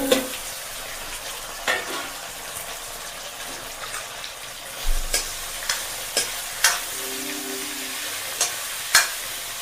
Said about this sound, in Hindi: ये आलू फ्राई हो जाएगा अब हमारा, हिला के फ्राई हो जाएगा।